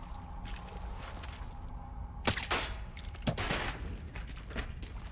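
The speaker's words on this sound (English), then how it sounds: "Well, shotguns in the caves it is." Shotgun blasts in the survival horror game Resident Evil Requiem, fired in caves: two or three sharp, loud reports about a second apart over a low rumbling ambience.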